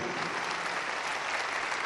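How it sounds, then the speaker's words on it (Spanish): Audience applause at a church conference in the Dominican Republic, a dense continuous roar of clapping from a large crowd, steady and even for the whole short stretch. "la República Dominicana reconoce con este aplauso lo que agradece"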